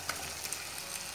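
Chicken and fried spices in a pan on high flame give off a steady, even sizzle and hiss, close and continuous, with a faint tick or two of movement.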